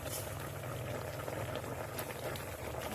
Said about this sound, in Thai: เดือดไปเรื่อยๆ ผับผุบผับผุบผับผุดผับ